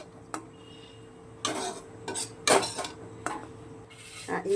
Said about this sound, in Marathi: आता ही राहिलेली अर्धी भाजून घेते.